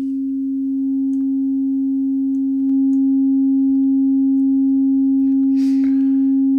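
A pure sine test tone passed through the Airwindows Pafnuty plugin with third-harmonic distortion added, a steady unbroken hum that gains a brighter overtone early on and holds alone throughout.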